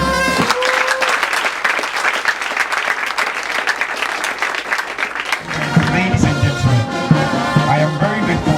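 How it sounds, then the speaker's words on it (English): An audience at a school speech and prize-giving day applauds loudly and continuously, and a burst of music joins the clapping partway through. "Let's clap for them."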